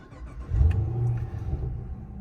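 A low-mileage 2015 Chevrolet SS pulls away up close, its deep engine rumble swelling briefly as it revs, then settling into a steady throaty drone.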